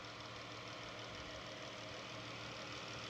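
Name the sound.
modified car engine running quietly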